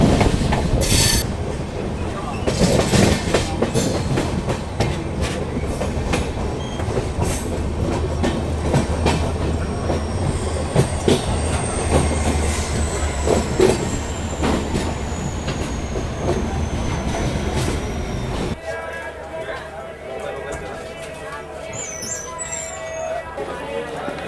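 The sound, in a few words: Kathgodam Ranikhet Express train passing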